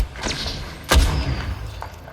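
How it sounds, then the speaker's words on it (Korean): Artillery strike in the game Apex Legends: one heavy, booming thud that lands near and rumbles briefly, with a fainter impact before it and another after it. "Incoming artillery"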